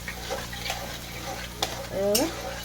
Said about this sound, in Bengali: এটাকে দিয়ে তেলে গুঁড়ে ভাজবো কষবো এভাবে